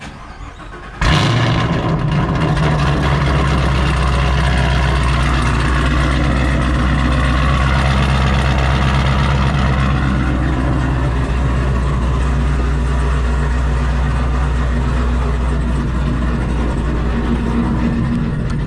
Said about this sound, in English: give you a quick little cold start.